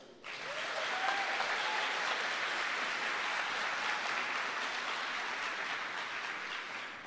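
Sustained applause from a church congregation, a broad, even wash of many hands clapping that starts abruptly and holds steady at moderate volume throughout.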